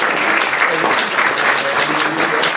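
A crowd at a New York political gathering applauds with dense, continuous clapping that stays loud and even throughout, with no voices standing out.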